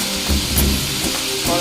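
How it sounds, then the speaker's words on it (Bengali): Bitter gourd pieces frying in a pan with salt and turmeric, a brief close sizzle with a couple of stirring thumps. "করলাগুলো ছেড়ে দিলাম, লবণ আর হলুদ দিয়ে এখন একটু ভাজা ভাজা করে নেব।"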